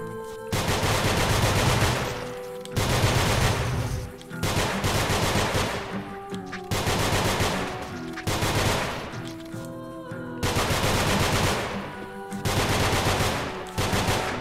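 Rapid automatic gunfire from the video game Nongunz rattles loud and dense in five long bursts, separated by brief pauses.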